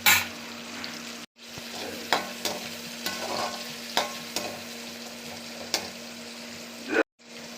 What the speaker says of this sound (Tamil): 2 தக்காளி, 2 மிளகாய் போட்டு நல்லா வதக்கிடணும்